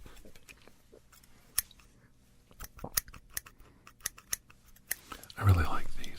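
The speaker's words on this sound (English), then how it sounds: "I have some new scissors I bought" New European steel scissors handled up close in a quiet room, with sparse small clicks, snips and metallic taps, then a louder brushing rustle near the end.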